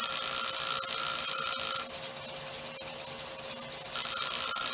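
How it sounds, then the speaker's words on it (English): An Eilik desktop companion robot by Energize Lab sounds its timer alarm, a loud, steady high-pitched electronic tone that pauses briefly and then resumes, heard alone. "There's our timer."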